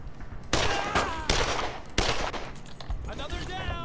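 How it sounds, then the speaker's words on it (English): In the World War II video game Brothers In Arms: Road to Hill 30, suppressing machine gun fire sounds in dense rattling bursts, loud and continuous, with several sharp onsets and more distant firing trailing off. "use a little bit of that suppressing fire now"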